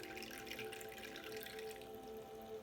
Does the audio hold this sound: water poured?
yes